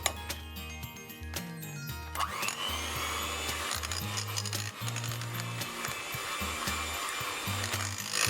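Cream being whipped with Boost malt powder for cake frosting, a steady motor whir of a mixer running continuously with shifting low tones as the beaters work through the mixture.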